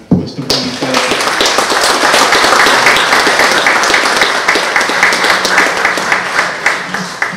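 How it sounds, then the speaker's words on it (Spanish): An audience breaks into sustained applause for a guest speaker, a former health minister, at a Spanish-language public event; dense, steady clapping from many hands fills the room for several seconds at close range. "Les pido un aplauso para nuestro invitado."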